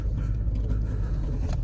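A Ford Expedition Max on Falken Wildpeak A/T4W tires churns and digs into soft ground, giving a steady, close, heavy low rumble of engine and spinning tires with no pauses.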